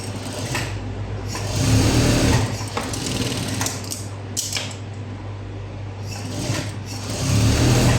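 Sewing machine stitching the front piece of a blouse with a half-inch guide, running steadily in bursts with a rhythmic mechanical whir and faint creaks, close and fairly loud, no talking.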